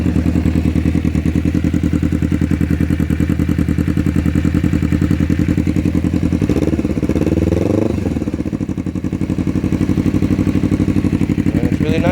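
Small 2012 Kawasaki Ninja 250R parallel-twin warmed up and idling, a steady close rumble throughout with a brief dip and wobble in revs around the middle, no one talking.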